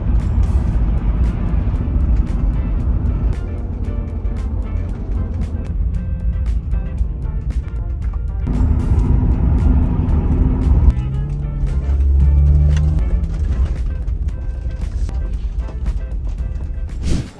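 An off-road capable car cruises at higher speed, its cabin filled with a loud, steady rumble of tire and road noise and engine drone, with occasional bumps and thumps but no clear speech.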